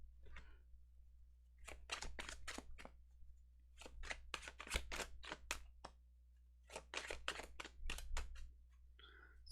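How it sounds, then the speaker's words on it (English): Tarot cards being shuffled by hand, a run of crisp riffling bursts and snaps in three clusters with short pauses between them, close and fairly quiet over a low steady hum. "So much shuffling."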